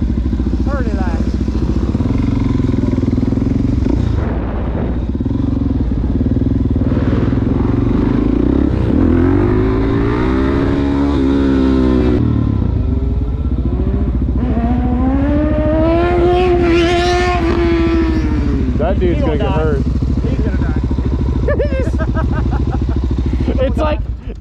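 A motorcycle engine drones and revs during a wheelie, its pitch climbing and falling as the throttle opens, with people talking over the steady roar.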